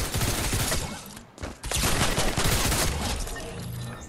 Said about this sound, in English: Harpoon gun.